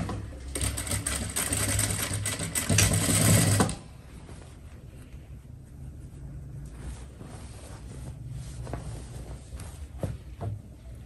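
A sewing machine runs a close, loud burst of stitching along a folded trouser hem for several seconds, then stops, leaving quieter handling noises and light tapping.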